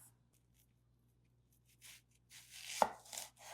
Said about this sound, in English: So now we're just going to slice it in half.